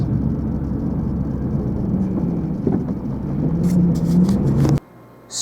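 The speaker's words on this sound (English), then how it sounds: "Fleet of dump trucks." Heavy dump truck engines idle and rumble nearby at a recycling center, a steady low drone with a faint rising tone before cutting off abruptly near the end.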